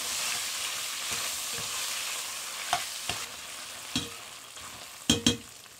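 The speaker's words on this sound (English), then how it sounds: "Plop that right in and get it cooking with the beef." Tomato paste fries with browned beef in a stew pot, a steady close sizzle broken by a few spoon knocks and scrapes that grow into two louder clunks near the end.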